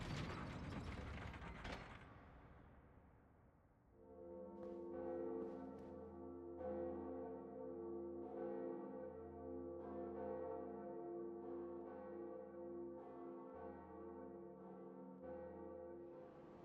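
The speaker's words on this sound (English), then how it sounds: "We are now ringing the second bell." Bell in the video game Dark Souls Remastered, preceded by a brief burst of noise, then a ratcheting mechanism clanks in a regular rhythm while the bell's rich ringing tone resonates continuously beneath it for over ten seconds.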